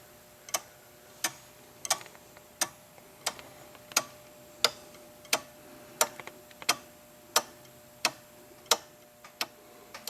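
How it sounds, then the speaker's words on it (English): International Time Recorder (ITR) time clock with its pendulum pushed by a small rod, ticking in a steady, even rhythm of about fifteen crisp, close clicks with nothing else over it. "this little rod which is pushing on the pendulum back and forth to give it the force it needs to keep ticking"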